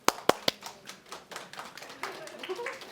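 A few sharp hand claps from a small audience at a Korean maternity class gathering, a handful of loud strikes at the start fading into scattered lighter clapping and faint room chatter.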